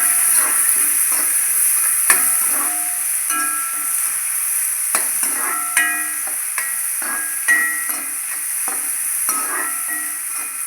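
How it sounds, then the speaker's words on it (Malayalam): Curry leaves with green and dried chilies fried in a pan for Kerala-style upma, a loud, close, steady sizzle punctuated by repeated sharp spatula clicks and scrapes as they are stirred. "കറിവേപ്പില, പച്ചമുളക്, വറ്റൽമുളക്, എല്ലാം കൂടി നന്നായി ഇളക്കാം."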